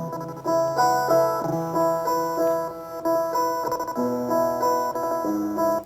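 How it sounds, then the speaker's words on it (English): A chopped piano sample with radio effects plays as a short melodic line of clipped, lo-fi piano notes, steady and upfront with no talking. "I took a piano sample and I put a bunch of like radio effects and chopped them up"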